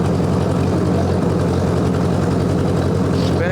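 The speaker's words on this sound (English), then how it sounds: "Spinning tires." A 1958 Ford 851 tractor revs hard while its tires spin, giving a loud, steady, low-pitched engine drone with a throbbing pulse that runs unbroken the whole time.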